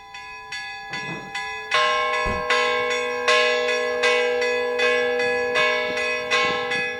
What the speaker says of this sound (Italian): Segue lo scampanio della campana dell'eremo.